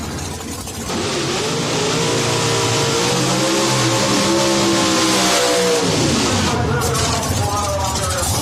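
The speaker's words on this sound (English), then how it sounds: "Burnout complete." A nitrous-fed drag race car does a burnout. The engine drones loudly and evenly, its pitch rising and then falling as the run ends, while a voice speaks over it.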